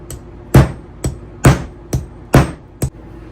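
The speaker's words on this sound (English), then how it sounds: "Then you're going to grab your hole punch, and we're just going to start hammering." Six sharp hammer blows strike a metal hole punch driven through stacked leather layers of a quilted tote bag, irregularly spaced with the first, third and fifth hits loudest, close and clear with no talk.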